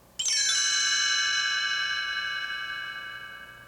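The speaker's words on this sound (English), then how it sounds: "whenever you hear the chimes ring" A single bright chime from a children's storybook page-turn cue strikes and rings out, its clear metallic tones sustaining and slowly fading over several seconds in quiet surroundings.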